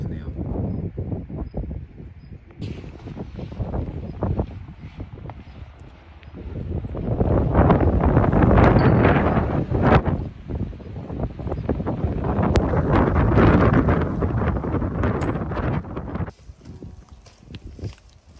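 Strong wind buffets a microphone on the summit of Dobongsan mountain, roaring in loud, uneven gusts that swell and fade, with heavy rumbling throughout.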